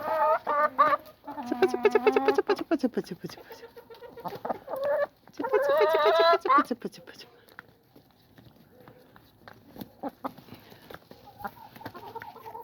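Young Wyandotte hens cluck and squawk close by in loud bursts, then quieter intermittent clucks, with a person talking softly among them.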